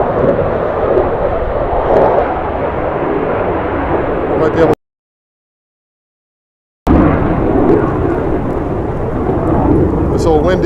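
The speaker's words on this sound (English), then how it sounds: "This is an F-35B jet flying over top of the cemetery." A Marine Corps F-35B jet passes over a cemetery on a windy day, a loud broad roar that rumbles steadily for several seconds, drops out abruptly, then resumes with someone talking over it.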